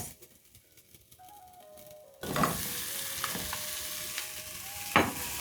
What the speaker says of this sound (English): So because it's ready, I'm going to add in my minced meat.